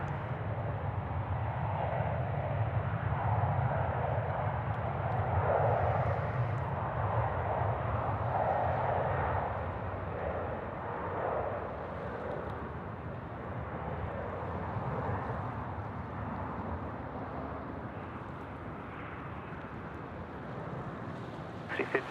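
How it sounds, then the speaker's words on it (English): A C-17 military transport aircraft takes off at Sydney Airport, a steady, loud, broad engine roar that holds for the whole stretch, with voices talking over it. "So it appears that the C-17 is the next to go."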